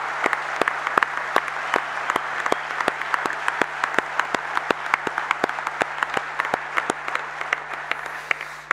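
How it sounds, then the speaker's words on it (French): Audience applause at the closing of a national congress in Saint-Malo, a wide wash of clapping heard from a distance with regular sharp claps standing out, fairly faint and with no speech. "je pense qu'on peut encore une nouvelle fois les applaudir très fort"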